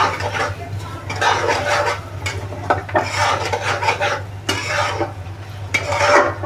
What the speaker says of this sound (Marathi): केळी जरा अशी तुपात फ्राय केली का खूप छान लागतं.